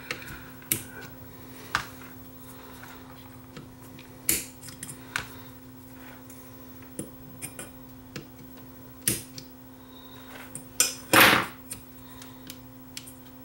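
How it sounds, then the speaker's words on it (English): Heat shrink material being cut on a circuit board component inside a dead Digistar LC4010D, heard as a series of sharp, close clicks and snips spaced irregularly, with one louder scraping cut near the end. "we'll cut through the heat shrink material here that's on here"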